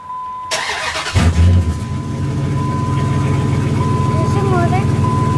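A truck engine starting: the starter cranks briefly, then the engine catches with a loud low roar and settles into a steady, close idle hum, while a faint whistling tone is heard.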